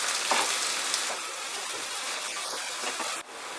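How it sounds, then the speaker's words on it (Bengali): Chopped onions frying in a pan over medium heat make a steady crackling sizzle with small pops, easing slightly toward the end. "কুচানো পেঁয়াজটা দিয়ে দিলাম। পেঁয়াজটাকে মাঝারি আঁচে বেশ খানিকক্ষণ ভাজতে হবে।"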